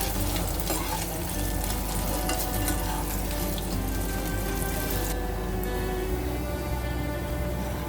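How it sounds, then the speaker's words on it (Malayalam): Noodles frying in hot oil in a pan, fried until golden brown and crisp, give a steady dense sizzle and crackle throughout, close and continuous with no talking. "നല്ല ക്രിസ്പി ആവുന്നത് വരെ നമുക്കൊന്ന് ഫ്രൈ ചെയ്തെടുക്കണം."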